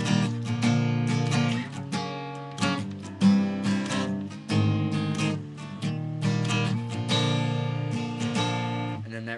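Several guitars play the pre-chorus of a song together, a steady strummed progression of chords that change every beat or two, full and close with no talking over it.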